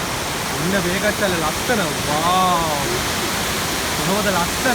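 A waterfall at Horton Plains in Sri Lanka rushes in a steady, loud, broadband roar throughout, with people talking over it.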